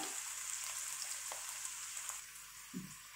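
Onions and garlic frying in a pan until transparent, giving a faint, continuous hissing sizzle with a few soft pops and a brief low knock near the end.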